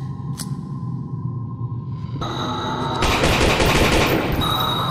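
Gunfire bursts out in the horror video game Lost in Vivo: a sharp early shot, then a quieter stretch before loud rapid firing and noisy clatter take over for the final seconds.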